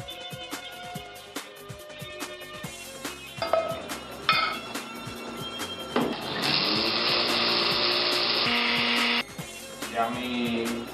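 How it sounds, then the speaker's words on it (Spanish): A kitchen blender purees hot cooked auyama (pumpkin squash) into a cream soup. It whirs in a short burst, then runs in a steady, louder stretch of about three seconds before cutting off, with faint kitchen clatter around it. "después de eso lo llevamos al procesador o a la licuadora"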